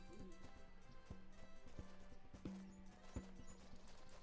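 Horse hooves clip-clop in the point-and-click adventure game Gabriel Knight: Sins of the Fathers 20th Anniversary Edition, a handful of sharp, evenly spaced clops at low level amid tonal background game music and ambience.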